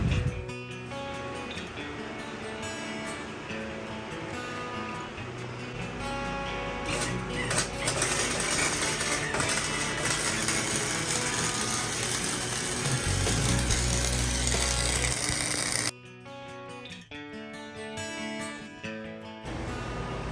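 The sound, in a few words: welding a bead on a school bus roof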